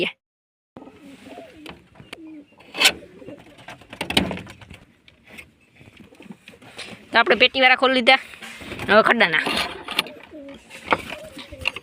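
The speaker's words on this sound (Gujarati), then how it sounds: "હવે આ કબૂતર બહાર આવી ગયા છે જો" Newly bought pigeons, just let out of their box, coo in repeated soft bursts close by, with someone talking over and between the calls.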